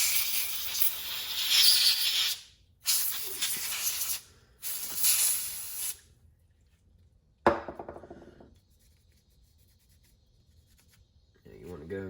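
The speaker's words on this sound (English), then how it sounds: "I got compressed air I always use. And I like to just kind of blow it down and out to make sure I get all of it out of the cracks." Compressed air blasts through the slide of a CZ 75 Compact pistol during cleaning, giving three close, harsh hissing bursts separated by short gaps, followed by a sharp knock and quiet.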